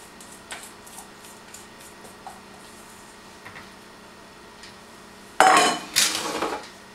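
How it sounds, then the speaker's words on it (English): Quiet light clinks and taps of utensils sound against a small toaster oven plate as thick flaxseed bread batter goes onto it, ending in a sudden louder rattling scrape near the close. "I'm going to go ahead and put the batter onto the little toaster oven plate"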